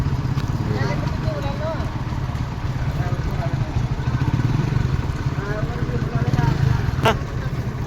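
Trucks, a tractor and a bus sit idling in a roadside traffic jam, giving a steady low engine rumble throughout while people talk over it.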